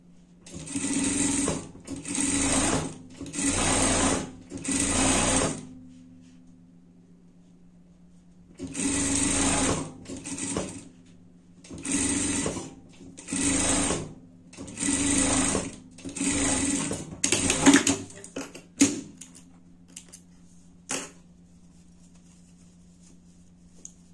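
A sewing machine stitches a seam on a pet outfit in short, rapid bursts of a few seconds each, separated by brief pauses, close and loud, followed by a few scattered clicks and knocks as the fabric is handled.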